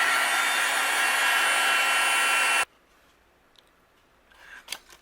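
Heat gun blowing to melt white embossing powder on a card: a loud, steady whooshing roar for under three seconds, then it cuts off abruptly, leaving near silence with a few faint taps and handling sounds.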